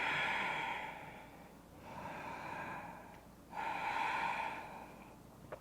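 Slow, deep nasal breathing during a resistance-band yoga flow, three long drawn-out breaths with soft airy rushes and brief pauses between them, close and quiet.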